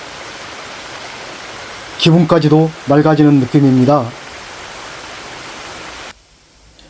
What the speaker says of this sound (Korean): 사찰 앞 계곡으로 작은 폭포수가 흐르고 있는데요